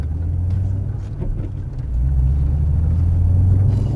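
A Mustang Shelby's engine drones and builds in a steady low rumble during a drift course session, growing louder partway through as the car accelerates, heard from inside the cabin with no talking.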